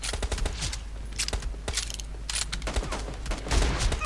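Gunfire in PUBG Mobile team deathmatch, including a Kar98k rifle: bursts of sharp shots and rapid volleys at close range, loud against a low background hum, with no talk.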